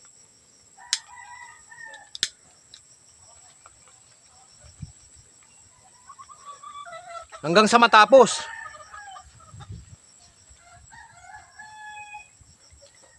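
Roosters and hens, kept for a farm routine, with a loud rooster crow mid-clip and scattered clucks and calls around it, crickets faint behind and a few spoken words.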